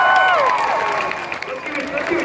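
An audience cheering and applauding at a comedy show, a dense sustained wash of clapping and crowd noise with a brief high whistle-like tone at the start.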